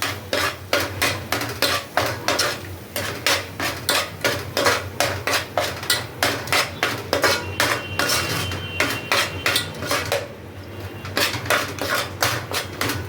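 A pav bhaji mixture being stirred and mashed in a pan with oil, ghee and butter: a fast, steady run of metal utensil clanks against the pan over a soft sizzle, close and continuous, without speech.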